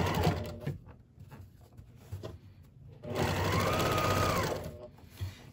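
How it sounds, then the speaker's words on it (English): A sewing machine whirs in two bursts of rapid stitching through fabric and quilt binding, the second longer and steadier, with quiet pauses between. "And then I go back to the sewing machine and just continue the stitch."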